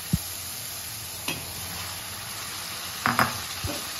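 Fried okra tossed into a pan of sizzling masala, with a steady frying hiss throughout and a few sharp clanks of a spatula against the pan scattered across it.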